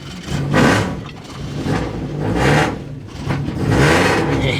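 An ITB-equipped Toyota GT-86 engine revs on track in surging waves, swelling and easing three times, loud and raspy with intake roar, no voices over it.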